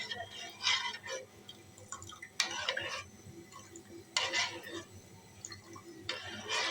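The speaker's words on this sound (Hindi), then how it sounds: "इस तरह से आपने ना चम्मच चलाकर इसको मिक्स करना है।" A spoon stirs a sweet homemade kunafa mixture in a pot, making soft repeated scraping and sloshing strokes in rhythmic bursts, faint and close, with no speech.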